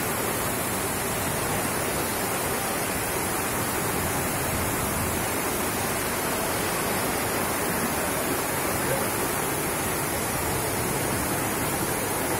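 Heavy rain pours down in the Sadar Bazar of Bundi, India, with floodwater rushing through the street, making a loud, dense, unbroken roar that holds steady throughout.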